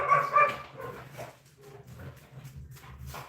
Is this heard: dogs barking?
yes